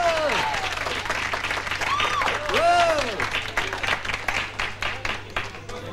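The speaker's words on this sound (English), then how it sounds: "Give him a clap." A studio audience claps steadily for a helmeted performer on a 1988 show floor, while voices with sweeping whoops and exclamations ring out over the applause.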